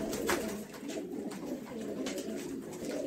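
Soft, repeated pigeon cooing against a steady background hum, several low throaty calls spread through the clip without voices.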